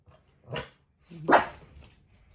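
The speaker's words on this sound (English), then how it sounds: "Why are you barking? What's you barking for?" A Shih Tzu gives two sharp barks, the second louder and higher, close by in an otherwise quiet space.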